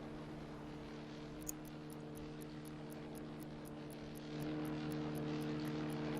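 An aircraft drones overhead in the submarine game UBOAT, a steady propeller-engine hum with regular periodic pulses that swells slightly louder toward the end, with no talk.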